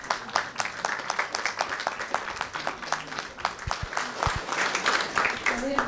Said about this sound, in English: Bring big round of applause, please.